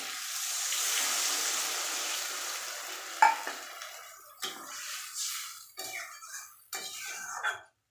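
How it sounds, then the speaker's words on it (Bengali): Water is poured into a hot pan for a rohu fish and kohlrabi curry, making a steady hissing rush that fades, then a few scattered scraping stirs and splashes nearby. "এবার দিয়ে দেবো জল"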